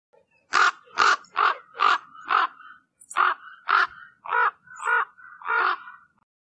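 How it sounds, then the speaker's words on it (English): A raven caws about ten times in quick succession, harsh and loud, in two close bursts with a short pause between them, near and alone. "R for raven."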